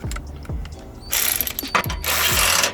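A ratchet wrench fitted with a 7/16 socket turns a bolt on a 2017 Freightliner semi truck battery tray, giving quick close clicking bursts of ratcheting, with a few separate knocks before it.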